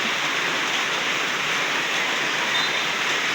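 Steady, loud rain pours down in a continuous broadband hiss with no breaks, filling the space evenly from start to finish.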